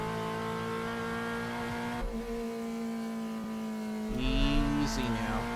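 Volkswagen Passat touring car in Reiza Brazilian Touring Car Classics, steady engine drone with a gear-change dip and a louder surge near the end, someone talking over it.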